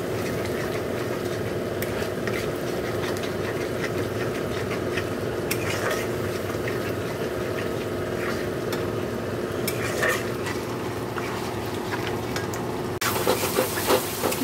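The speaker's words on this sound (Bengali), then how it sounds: "এখন নুন, হলুদ, মিষ্টি দিয়ে ভালো করে কষে নেব মশলাটা" Masala cooked down with salt, turmeric and sugar in a pan gives a continuous soft sizzle with repeated scraping and stirring strokes, close and even, ending in a brief clatter.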